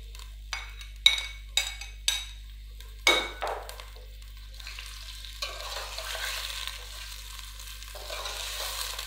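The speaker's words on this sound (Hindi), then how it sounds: "प्याज़ों को अच्छे से फ्राई कर लेंगे।" Onions fry in cooking oil in a pot for biryani: several sharp metal clinks and scrapes from stirring come first, then a quieter, even sizzle carries on alone.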